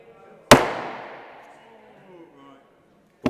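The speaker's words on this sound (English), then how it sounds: "I'm going to drop the hammer down. When it goes bang, it's too late." An auctioneer's hammer striking at a classic car auction, one sharp loud bang with a long ringing decay through the hall, followed by quiet and the start of another knock at the end.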